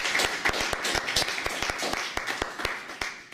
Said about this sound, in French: nous pouvons applaudir notre ami